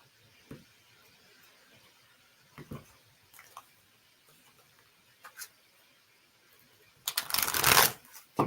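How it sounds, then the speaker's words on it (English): Playing cards are shuffled in a few soft, brief riffles, then a louder, longer riffle-and-bridge shuffle close up. "Two more shuffles."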